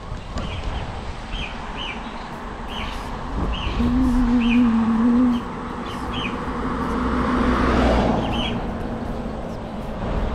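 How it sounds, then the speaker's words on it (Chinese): Small birds chirp outdoors near hills by the sea, short repeated calls spaced out over a steady background of wind and distant traffic, with a brief low engine drone partway through. "你们听见鸟叫了吗？"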